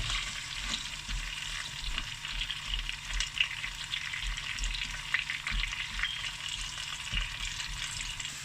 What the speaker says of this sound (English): The oil is hot now. I'm going to throw in the paneer. Just going to fry that.